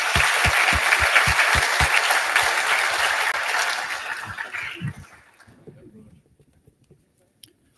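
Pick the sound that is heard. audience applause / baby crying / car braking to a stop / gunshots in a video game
audience applause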